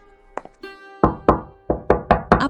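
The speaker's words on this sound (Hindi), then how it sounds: "दरवाजे के बाहर किसी के कदमों की आवाज आई, धीरे धीरे नजदीक आती हुई" Slow footsteps outside a door in a cartoon story, landing one by one in an unhurried rhythm, each step a distinct knock-like thud that grows firmer as it approaches, with a short creak and tap before them.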